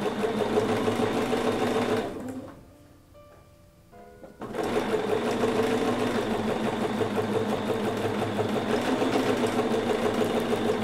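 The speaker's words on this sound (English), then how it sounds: "hopefully my sewing machine's not too loud. It probably needs to be oiled." A sewing machine runs steadily with a fast mechanical whir, pauses briefly for a couple of seconds, then starts up again and keeps running.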